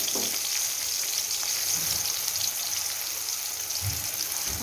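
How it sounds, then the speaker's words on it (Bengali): Chopped onions frying in hot oil for a Bengali fish rezala, a steady close crackling sizzle that runs throughout with a few soft low knocks and no voices. "তেলের উপরে আগে একটু পেঁয়াজটা ভেজে নিই।"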